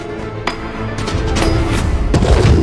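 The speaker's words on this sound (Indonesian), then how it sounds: "ia akan melempar sebuah granat kejut" A stun grenade goes off in the Arknights anime, with loud booming bursts and a sustained crackling roar that builds and stays close and intense.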